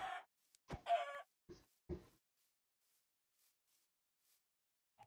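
Several short chicken clucks from a video game in quick bursts, fairly close, followed by a quiet stretch with one last faint cluck at the end.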